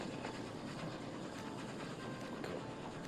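Continuous rolling train noise with a steady rail clatter from the video game Oddsparks, an explosive-fueled train running at an even, moderate level with no talking.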